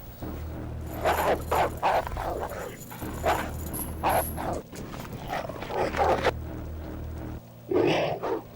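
Dogs bark repeatedly in the horror game Alone in the Dark: The New Nightmare, a run of loud, close barks in irregular bursts with brief pauses between them.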